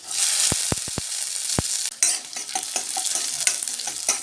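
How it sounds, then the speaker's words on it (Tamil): Oil sizzles steadily in a pan as chopped onion and garlic sauté, with a few sharp clinks of a spoon against the pan early on and stirring after. "இந்த பூண்டு வெங்காயமும் எண்ணெயில் நல்லா வதங்கட்டுங்க"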